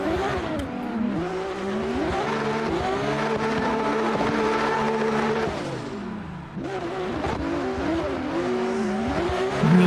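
Drift cars at the Long Beach drift event rev their engines hard at the start line, several engines wailing up and down together in loud overlapping revs, with a brief dip before they roar again.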